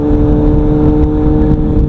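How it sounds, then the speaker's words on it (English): Steady, loud wind roar inside a motorcycle helmet while riding, a dense continuous rush with an engine drone beneath it, no break across the whole stretch. "it's all the wind noise in the helmet"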